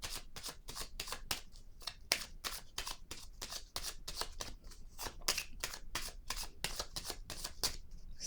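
Tarot cards are shuffled close up in a long, steady run of rapid, evenly spaced snapping flicks, soft in level and with no talking.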